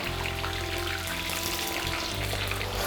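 Chopped leek, onion and scallions with ginger crackle steadily in hot oil while scallion oil is made for a Sichuan mao cai, a dense, even sizzle running throughout at close range with no talking.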